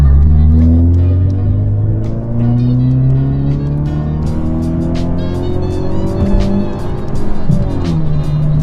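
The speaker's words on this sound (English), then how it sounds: "My car's a lot louder now, so I might go a little bit further down and then do the pulls they want." A tuned 2018 Mazda accelerates hard on a tuning pull, its engine note climbing steadily in pitch through the revs, loud and close, with a brief dip and shift-like change near the end.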